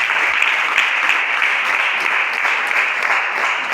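A church congregation applauds steadily and continuously, a dense, loud wash of clapping from many hands that holds without a break throughout.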